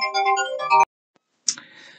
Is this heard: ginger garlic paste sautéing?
no